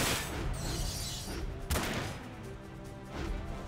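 Gunfire in the Front Mission 5: Scars of the War video game, bursts of shots with a sharp blast partway through, loud and close, mixed with rumbling noise.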